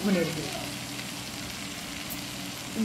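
Tomato frying with cumin, coriander and chilli powder being stirred in a pan, a steady close sizzle with occasional scraping of the spoon, constant throughout.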